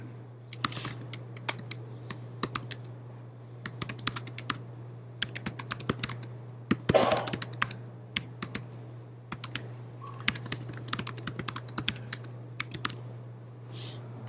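Typing on a computer keyboard during a Mac users' group meeting about building websites in Adobe Muse. Bursts of quick, crisp key clicks are separated by short pauses over a steady low electrical hum, with no talking.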